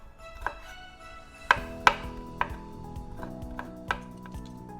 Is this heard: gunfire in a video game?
no